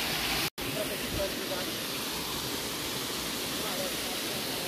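Rushing waterfall at a natural pool, a loud, steady broadband roar that fills the whole stretch, broken only by one instant dropout near the start.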